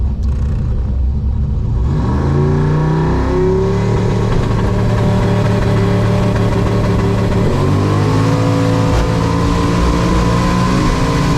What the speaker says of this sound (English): car just scooting away at the top end there of 131 mile an hour